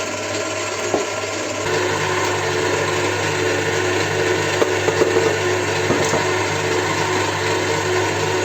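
A steady mechanical whir of an electric mixer running at low speed, mixing cake batter with flour, continuous and fairly loud, with occasional faint knocks against the bowl.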